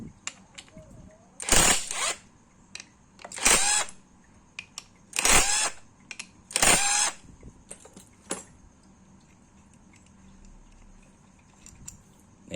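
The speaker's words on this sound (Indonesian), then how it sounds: "Saya akan pakai alat impact untuk ngebuka bautnya." An impact wrench loosens the four water pump bolts on a motorcycle engine, firing in four loud, short rattling bursts spaced a couple of seconds apart, plus a few lighter clicks between quiet stretches.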